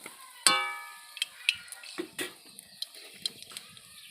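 Five-spice seeds and a whole dried chili hit hot oil, giving a sharp crackle followed by scattered small pops and light sizzling, fairly close and without talk.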